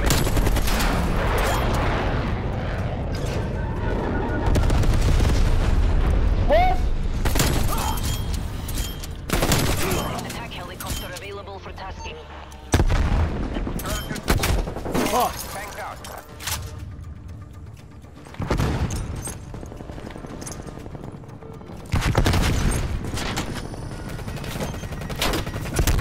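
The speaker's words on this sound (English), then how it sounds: "Napalm strike incoming." Napalm strike in the multiplayer shooter Call of Duty: Black Ops Cold War, a string of heavy booming blasts and bursts of gunfire erupting repeatedly, loud and close, with players talking between them.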